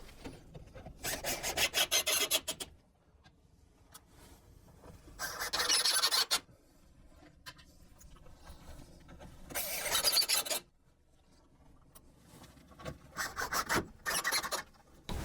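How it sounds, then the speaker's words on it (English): Screws driven into the side of a plantation shutter L frame: four bursts of grinding, rasping drive noise, each lasting about a second or two, with quiet gaps between, close and without talk. "And now we're going to install the screws in the sides there to start to secure the L frame."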